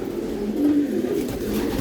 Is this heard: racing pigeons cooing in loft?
yes